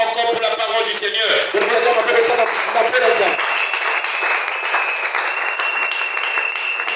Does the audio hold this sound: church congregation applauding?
yes